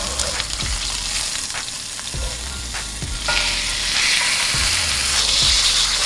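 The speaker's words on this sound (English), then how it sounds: "And sear this side for 1 minute and 30 seconds." A flipped steak sears loudly in a hot pan, a continuous close sizzle with intermittent clatters and thumps of utensils, the frying swelling louder toward the end.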